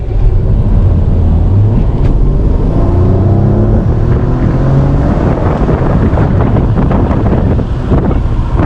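A 2018 Maserati Ghibli S Q4 in sport mode with manual shifting pulls hard down a straightaway, its engine note climbing steadily under heavy, continuous wind and road roar.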